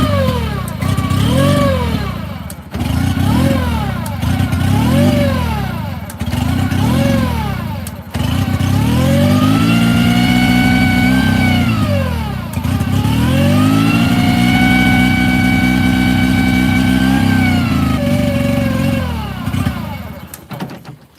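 A Mercury 9.9 hp outboard motor on a Grizzly Tracker boat runs loud and close, surging up and dropping back in repeated rev cycles before holding a steadier high idle, with brief dips between bursts.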